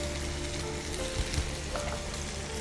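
Capsicum and onion fry in a kadai with a steady, close sizzle and crackle, and a couple of soft stirring thumps come through partway.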